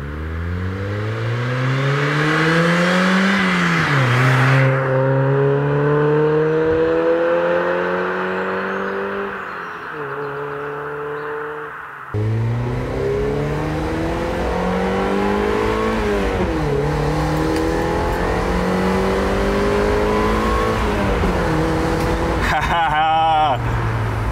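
A car drives out for a spin, its engine revving up through the gears in loud rising sweeps with gear changes and whirring, heard from onboard; a person speaks briefly.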